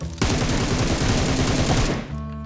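A rifle in PUBG Mobile fires a long, rapid automatic burst, loud and close, with evenly spaced shots for about two seconds before cutting off into a short ringing tail.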